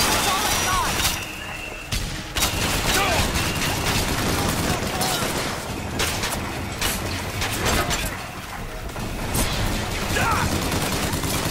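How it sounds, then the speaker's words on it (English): Video game gunfire in rapid, dense bursts, loud and close, with sharp cracks and clattering impacts filling the whole stretch almost without pause. "Who's shooting at me?"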